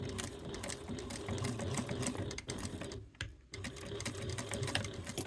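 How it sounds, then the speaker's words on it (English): A sewing machine stitches piping into the gusset of a crossbody bag, running steadily and close with one brief pause midway. "place my presser foot back down, and keep sewing."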